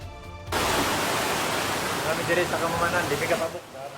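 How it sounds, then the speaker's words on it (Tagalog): Floodwater surges through city streets in Cagayan de Oro after heavy rain, a loud, steady rushing roar that swells in at the start and runs on throughout, with faint voices over it. "Rumagasa ang baha sa Cagayan de Oro City dahil sa malakas na ulan."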